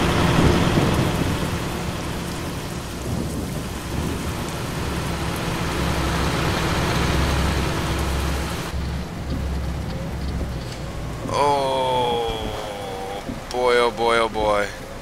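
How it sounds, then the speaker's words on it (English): A thunderstorm in the truck-driving game Euro Truck Simulator 2 brings steady heavy rain and low rumbling thunder for most of the stretch, after which the storm noise thins and someone speaks over it. "Thunder and lightning."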